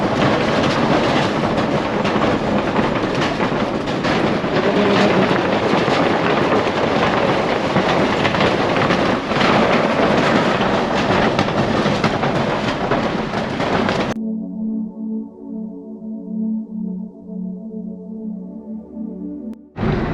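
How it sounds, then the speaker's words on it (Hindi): Vehicle crossing a rattling one-vehicle-at-a-time bridge near Thang village on the Ladakh LOC, a loud, dense continuous clatter and rumble for most of the span, then cutting abruptly to quieter steady tones. "आवाज़ बहुत आती है इस पुल पे यार।"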